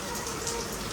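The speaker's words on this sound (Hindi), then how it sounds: "ये देखें कितनी बारिश हो रही है।" Heavy rain pours down around a house, a dense, loud, continuous hiss of drops hitting surfaces with no pauses.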